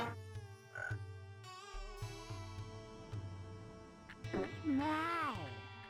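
Frogs croak in the video game Bug Too!, repeated low croaks over a game soundtrack, with a rising and falling call near the end and a voice talking over it.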